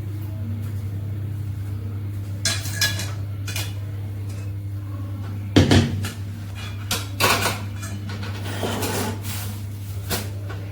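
Dishes clatter and clink as they are placed into a utensil stand, with intermittent sharp metallic knocks and one louder clash midway over a steady low hum.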